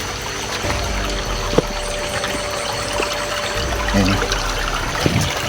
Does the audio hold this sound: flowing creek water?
yes